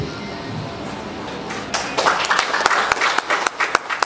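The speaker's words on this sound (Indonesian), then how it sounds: "Ini kalau ibu udah tepuk tangan, saya udah lanjutin." Hand clapping at a 2021 museum quiz competition final, starting after a quiet stretch and continuing as a run of sharp, uneven claps from a small group, fairly close and loud.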